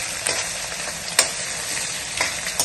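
A tempering of onion, green and dried red chillies, mustard seeds, cumin and curry leaves fries loudly in hot oil, a close steady sizzle punctuated by a few sharp spoon strokes against the pan.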